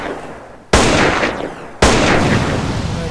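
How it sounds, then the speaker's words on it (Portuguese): A modded AK-47 fires in the video game GTA San Andreas, two loud, abrupt blasts about a second apart, each trailing off into a long reverberating rumble. "Esse daqui tentaram fazer para AK-47, mas quando você atira ele faz isso tudo ao mesmo tempo"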